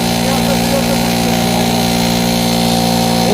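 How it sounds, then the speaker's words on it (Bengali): A fuel-powered water pump engine runs steadily nearby, a loud continuous drone with a constant low hum and an even buzzing pulse, unchanging throughout. "ইঞ্জিনের সাউন্ড শব্দের জন্য সাউন্ডটা বোঝা যায় না"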